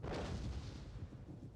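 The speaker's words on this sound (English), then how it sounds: "You could still hear the arty. I think that was actually the Bastion cannon" A bastion cannon fires as artillery during a siege battle in Total War: Attila, a deep, heavy boom that rolls and fades over a second and a half, loud and without talk.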